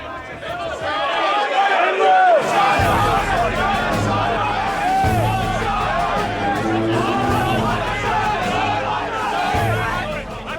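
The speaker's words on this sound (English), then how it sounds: "When you get 240 people in a trading crowd this tight, it gets so loud" A packed trading floor crowd of about 240 traders, a dense, loud wall of overlapping shouting voices and babble that stays constant throughout, with no single speaker standing out.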